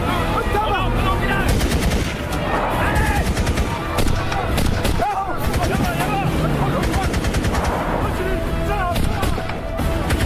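Heavy gunfire in a French action film about terrorists, dense rapid automatic bursts and booming shots running continuously over loud music and shouting voices.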